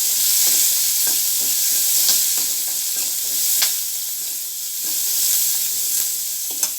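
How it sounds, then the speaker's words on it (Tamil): Curry leaves crackle and sizzle in hot oil in a pan for onion chutney, with a steady close frying hiss and occasional scraping stirs of a spoon. "நான் இன்றைக்கி ஒரு 2 அறுக்கு கருவேப்பிலை அதில் சேர்த்துக்கிறேன்."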